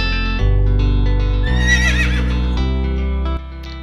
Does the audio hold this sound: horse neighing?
yes